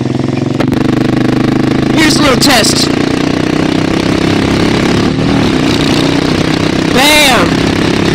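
A Suzuki S40 Boulevard motorcycle's single engine runs steadily throughout with a low, constant drone, and someone talks over it; brief whines of passing traffic rise and fall midway and near the end.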